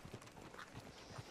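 Hooves of a horse in Red Dead Redemption 2 clop faintly and unevenly at a distance, a few soft hoof strikes spread across a brief quiet stretch.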